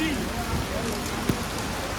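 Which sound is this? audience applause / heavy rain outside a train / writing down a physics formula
heavy rain outside a train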